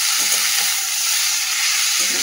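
Drained, salt-soaked potatoes crackle in hot oil with a steady, close broadband sizzle, while a few soft stirring knocks come through near the start and the end.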